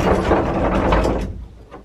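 An RV door inside a new motorhome sliding or swinging shut near the master bedroom, one close solid thud and rattle that quickly dies away, with no talk.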